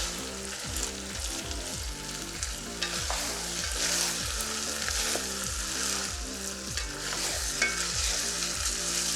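Meat and sauce for Persian loobia polo being stirred together in a hot pan, with a steady rhythmic scraping of the spoon repeating every half second over a continuous close sizzle, no talking.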